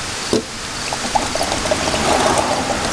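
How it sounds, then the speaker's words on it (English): Seafoam pours from a can into the fuel tank of a Jeep Cherokee: a loud, continuous gurgling stream of liquid, close by, with a brief knock at the start. "I'm going to go dump the rest of this can into the fuel tank"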